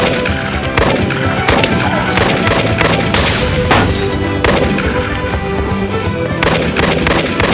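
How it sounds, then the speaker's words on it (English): Continuous loud gunfire from several guns emptying full clips, a dense, close barrage of overlapping shots and booms with no pause across the whole stretch. "Fire your entire clip on three."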